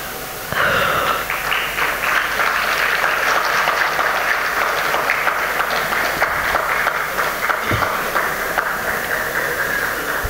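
A small audience gives impromptu applause at a souvenir launch. Steady, close clapping starts abruptly and continues evenly for several seconds, with a faint thump partway through.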